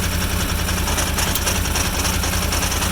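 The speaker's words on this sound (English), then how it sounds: "You guys hear the engine lug down once you started charging?" A loud Can-Am Defender UTV engine runs close by, lugging down under charging-system load with a low, chugging pulse that sounds strained and labouring throughout.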